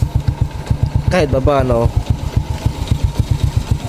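A Honda Wave 100 motorcycle engine idles close by with a steady low putter, while someone talks over it for about a second and a half in the middle.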